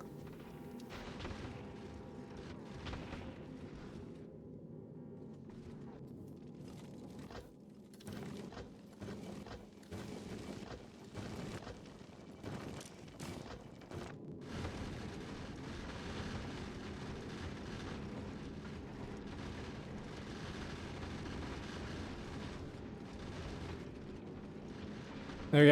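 A video game spaceship's engines roar at full thrust as a sustained low rumble, with clanking mechanical bursts in the middle stretch before settling into a steady drone.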